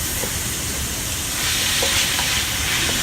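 Meat and tomato stir-frying in a pan for a Pacific Island soy sauce dish, a steady close sizzle with bursts of spattering and occasional stirring scrapes, no talking.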